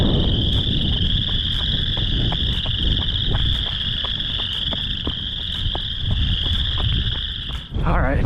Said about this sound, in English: Listen to all the crickets.